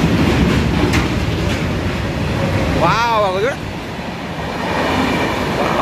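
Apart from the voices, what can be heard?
train passing near Pithapuram railway station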